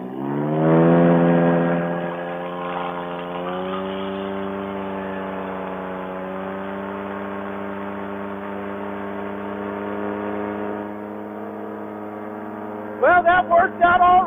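The motor of a powered paraglider runs steadily at launch in a strong, close, droning hum that swells briefly near the start, then holds even. It ends in a short choppy sputter of rapid bursts.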